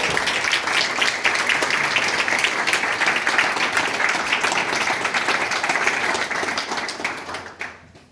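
Sustained applause from an audience at the opening of an art exhibition, steady dense clapping filling the room for about seven seconds before tapering off at the end.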